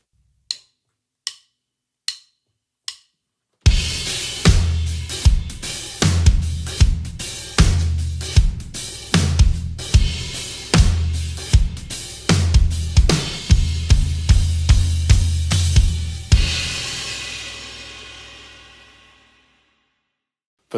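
A few spaced clicks lead into a full drum groove with driving hi-hats and a four-on-the-floor kick, loud and steady, before the kit stops and a cymbal rings out and fades.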